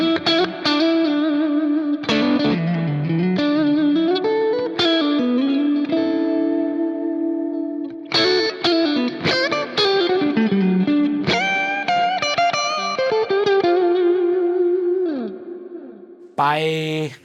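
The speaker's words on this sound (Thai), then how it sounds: "อันนี้รีเวิร์บมันจะเวทนิดนึงนะครับลองฟังดูนะ" Fender Hybrid II Stratocaster electric guitar played through a wet reverb effect, with strummed chords and melodic runs ringing out in long washy tails, loud and close with brief pauses, no talk.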